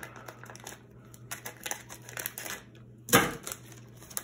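A piece of vinyl is cut for a stencil, giving close, rapid crinkling and snipping sounds with a louder crunch near the end, fairly quiet and without talk.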